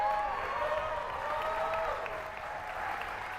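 A crowd at an independent wrestling show claps and cheers, a steady wash of applause from a large audience with a voice ringing over it.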